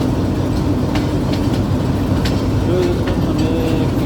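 A locomotive at Golra Sharif railway junction rumbles steadily at a distance, with broadband train noise throughout and a faint tonal squeal near the end, while someone speaks briefly over it.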